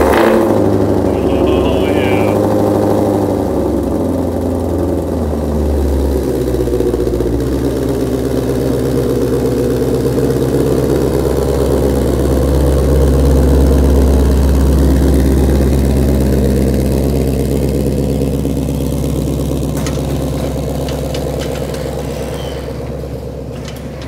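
A 2020 Shelby GT500 engine runs close by, a deep steady rumble that idles and swells slightly before easing off toward the end, with people talking over it.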